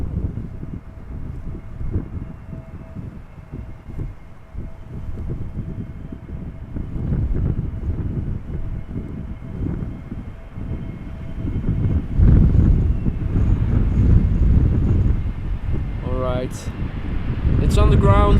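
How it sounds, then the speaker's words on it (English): EasyJet Airbus A320neo arriving from Jersey lands in crosswind at Amsterdam Schiphol, a broad low engine roar and wind rumble building and swelling toward the end, with a person talking throughout. "A320neo from EasyJet. Which is arriving from Jersey."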